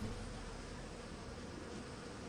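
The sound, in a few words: insects buzzing in the video game Empire Earth II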